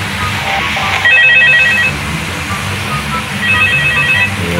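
A telephone rings in the Five Nights at Freddy's 2 video game, two electronic ring bursts with a pause between them, over a steady background drone.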